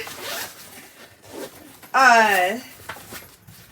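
A zipper on a good-sized backpack from a mystery grab bag is pulled open in one quick rasping stroke of about half a second, close and loud, amid faint rustling and light talk.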